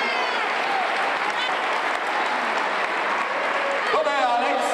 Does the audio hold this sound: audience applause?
yes